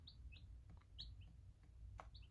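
Nine-day-old baby chickens chirp in short, high, scattered peeps, several quick calls spaced irregularly over a quiet low background, soft and fairly close.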